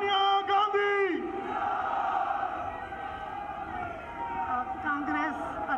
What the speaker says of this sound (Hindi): पहुंची है जोरदार तालियों के साथ सोनिया गांधी।